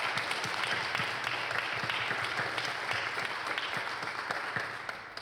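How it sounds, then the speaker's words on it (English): A live audience bursts into sustained applause at an evening event, the dense clapping steady and loud throughout with no voices on top, easing only slightly toward the end. "join me in a round of applause for them."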